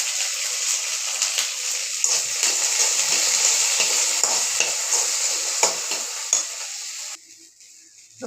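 Shelled green peas sauté in a kadai with a bright, steady sizzle and frequent scraping stirs, loud and close, before the frying noise suddenly drops away near the end; nobody speaks.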